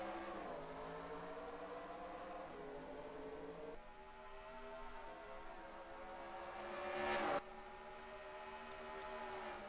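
Race cars at Bristol's half-mile oval in NASCAR Racing 2003 drone together in layered engine tones that shift in pitch, with one car swelling louder as it passes close before the sound drops back to a steady pack roar.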